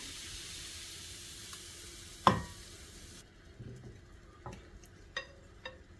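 A sharp hiss as pancake batter hits a hot oiled pan, followed by faint, steady sizzling over medium heat with a few light clicks and taps.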